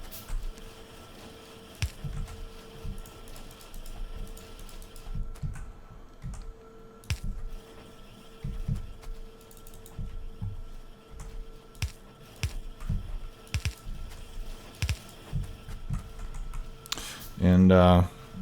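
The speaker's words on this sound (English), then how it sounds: "I know you can hear the vibrations of my keyboard coming through my microphone" Low thumps and clicks from a computer keyboard carried through a desk-mounted microphone, irregular and soft, scattered across a long stretch beneath quiet background hum, ending with a sharp loud burst.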